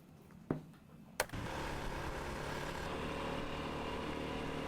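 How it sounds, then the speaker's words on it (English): A moped ride: two sharp clicks, then a small engine settles into a steady, even drone that carries on to the end, fairly close and with no talking. "So this is Matthew enjoying the experience of being on a moped."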